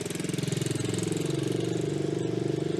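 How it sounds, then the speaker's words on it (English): A kids' quad bike engine running steadily close by, a moderate, even puttering drone with a fast regular pulse, not especially loud, with no talking over it. "It's a really nice bike when it comes to the sound as well. It's not stupidly loud."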